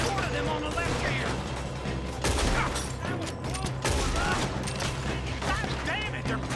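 Dense gunfire in Red Dead Redemption 2, a rapid crackle of overlapping rifle and pistol shots from several shooters, loud and continuous with sharp bursts throughout, mixed with voices.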